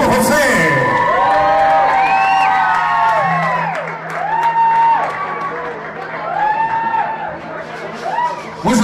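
A large crowd at a 2013 rock concert in Mexico cheers, whoops and shouts loudly and continuously, with many excited voices rising and falling throughout and applause mixed in.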